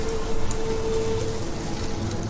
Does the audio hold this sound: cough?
no